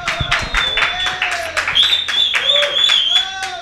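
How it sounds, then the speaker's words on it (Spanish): An audience claps loudly in a TV variety show studio, a dense stream of rapid hand claps running throughout while a voice shouts and speaks energetically over the applause. "Un aplauso fuerte, fuerte, fuerte,"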